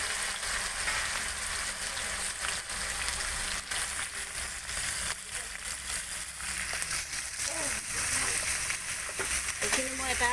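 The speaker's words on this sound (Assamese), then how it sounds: "এইখিনি মই এটা ধুনীয়া কালাৰ আহালে কঁঠালখিনি ভাজি ল'ম" Pieces of jackfruit fry in hot mustard oil in a pan, a steady close sizzle and crackle running throughout while a person talks over it.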